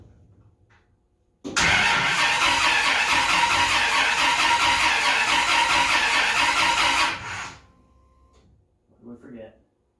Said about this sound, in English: Fire up with the exhaust. Engine hopefully fixed.